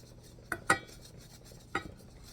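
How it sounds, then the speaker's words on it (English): Spoon scraping and clinking in a pan as flour is stirred into canned Mississippi chicken, a few sharp metallic knocks spaced apart over a quiet background, close and fairly soft. "blend this together so the flour can cook out that raw flour flavor"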